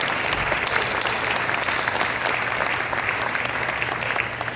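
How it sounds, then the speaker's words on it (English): Sustained applause from a large crowd at an industry awards ceremony, steady and full throughout with continuous dense clapping and no pauses. "Let's give one more round of applause to all of our finalists and our award winners"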